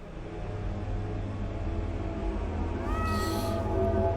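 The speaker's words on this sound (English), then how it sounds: "What on earth are you doing down here, you silly cat?" A cat meows in the video game The Excavation of Hob's Barrow, a single rising, drawn-out mew heard close and clear over a steady low ambient hum, with a faint second cry at the end.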